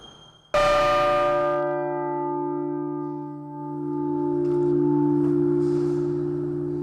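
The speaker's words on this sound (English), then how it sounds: "I'll lift it up and you listen to it. See what the difference is between old bell and new bells." A single metal bell is struck once and rings out, its bright clang fading into a long, slowly wavering hum.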